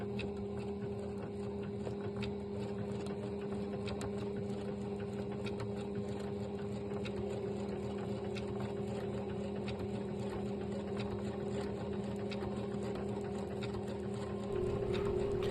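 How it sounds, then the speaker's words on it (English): Sewing machine stitching fabric applique on a quilted Easter basket, a steady close mechanical whir with a rapid even needle patter running continuously and unbroken. "When sewing your applique, just take your time, go slow, slowly move your fabric around the curves"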